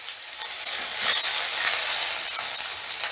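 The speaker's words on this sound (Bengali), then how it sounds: "ফোড়নটা একটু নাড়াচাড়া করে দিয়ে দিচ্ছি গ্রেট করা আদা" Grated ginger sizzles loudly in mustard oil with panch phoron tempering, a dense close hiss that swells in the middle with faint stirring underneath.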